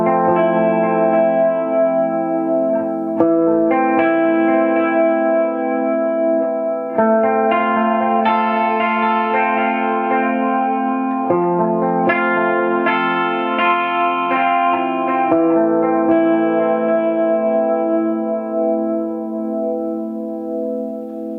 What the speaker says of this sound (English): Let's turn on the chorus pedal. And let's turn on the delay pedal.